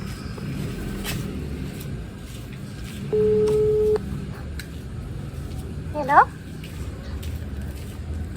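A telephone call tone sounds once as a single steady beep of about a second, set against low background noise.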